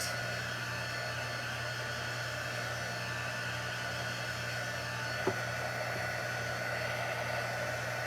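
A hair dryer blows steadily on chalk paint over a door tag, a continuous close whoosh held for the whole stretch with one small click partway through.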